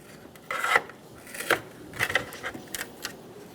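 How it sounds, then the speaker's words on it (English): A flat blade screwdriver slowly prying a glued emblem off the front grille of a 2010-2014 Subaru Outback: faint, close scraping and rasping with small clicks in several short bursts, no talk. "Using a flat blade screwdriver, we're going to get under the front of the emblem. And very carefully, we're going to slowly start to pop it up"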